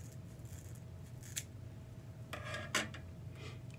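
Scissors snip a pipe cleaner for a butterfly wreath craft, a few quiet close cuts and rasping scrapes over a faint background hum.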